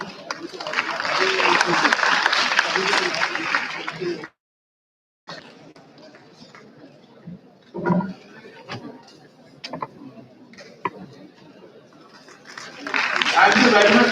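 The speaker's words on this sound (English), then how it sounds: "Audience, please give him a huge round of applause." At the IMTC 2018 event, an audience claps loudly for the keynote speaker, then breaks off. Sparse claps and murmurs follow before a second burst of applause swells at the end.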